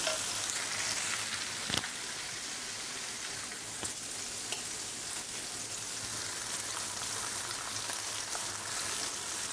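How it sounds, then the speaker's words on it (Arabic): Potatoes sautéing in a pan give a steady, close sizzle and crackle with a few sharper pops and scraping stirs, and no voices. "بس اشوح البطاطس شويه"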